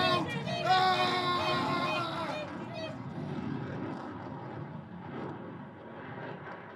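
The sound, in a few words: airplane diving in a radio drama sound effect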